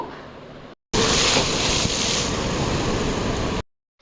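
Sea waves surging and breaking at Om Beach in Gokarna, a loud, steady roar of surf with wind buffeting close to the microphone, cutting in abruptly after a brief quiet start and stopping just as sharply.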